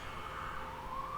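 An ambulance or police siren wails from a nearby big road, a steady rising tone heard faintly at a distance, alone without talk.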